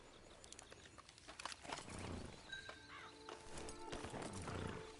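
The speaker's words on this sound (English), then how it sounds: "Get on the horse." Horse hooves clip-clopping on a dirt path in the Red Dead Redemption video game, with occasional snorts and a whinny over an outdoor ambience of birds and distant wildlife, moderately loud and steady throughout.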